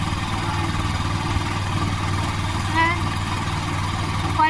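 A motorized raft on the Li River runs with a steady, loud engine drone throughout, while people talk over it.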